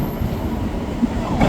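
A train rumbles steadily and loudly close by for a brief moment, with a dense continuous roar of wheels on the rails and a faint squeal near the end, with no one talking.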